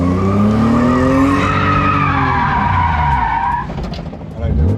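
A Honda CRX with a B18 engine revs hard with climbing, strained engine tones and tire squeal, loud and close, easing off at the end while people talk inside the car.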